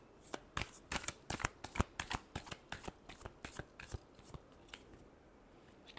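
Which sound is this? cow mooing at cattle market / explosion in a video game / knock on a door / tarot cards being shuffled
tarot cards being shuffled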